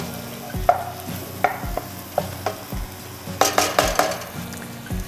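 Sauce simmers in a pan with added olive oil and gives a low bubbling sizzle. Repeated knocks and clinks of a utensil against the pan come in irregular bursts, and no one speaks.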